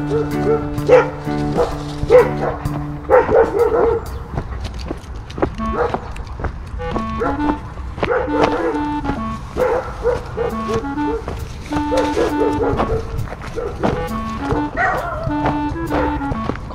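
A dog walked along a village street barks loudly and repeatedly at close range, mixing sharp barks with yips and whimpering whines in uneven bursts throughout.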